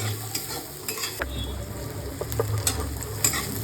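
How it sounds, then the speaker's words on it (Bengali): Onions fry gently over low heat in a pan. A close, steady sizzle runs throughout, broken by frequent scraping and clinking as a spoon stirs them. "হালকা হালকা করে ভাজা হবে বাদামি কালারটা ভালো হবে না হচ্ছে পেঁয়াজটা পুড়ে যাবে"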